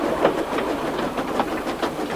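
A steam engine train from an animated children's film pulls away, its wheels giving a steady, fairly close clickety-clack rhythm with evenly spaced beats and no voices.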